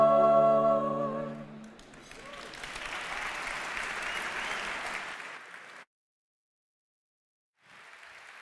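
An audience at a forest fire prevention awards ceremony bursts into applause as a sung tune ends, the clapping holding steady for a few seconds, cutting to silence, then briefly resuming.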